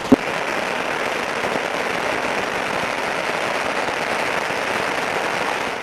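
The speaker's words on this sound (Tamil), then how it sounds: "புத்தாண்டு கொண்டாட்டத்தின் போது ஆயிரக்கணக்கான டன் பட்டாசுகள் வெடிக்கப்பட்டன" Firecrackers burst during Chinese New Year celebrations in Beijing, a dense, continuous crackling roar of many distant explosions blending into a steady wash with one sharper pop at the start.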